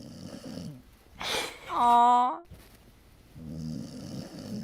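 A pit bull mix dog snores with low, rough breaths at the start and end, while a person's drawn-out, cooing voice sounds in the middle.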